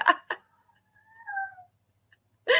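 A pet cat gives a single drawn-out, rising-then-falling meow, clear and close, with a voice briefly before and after it.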